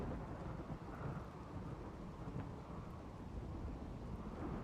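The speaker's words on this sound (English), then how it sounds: "The sound of a thunderstorm." Steady rain and rolling thunder from a thunderstorm in the colony-building game Rimworld, a continuous dense wash of rainfall with low rumbles throughout, no voices.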